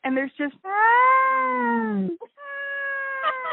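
A person's voice imitates a peacock's scream, producing long, wavering, cat-like wails mixed with brief spoken words, close and fairly loud, with two drawn-out calls separated by a short gap.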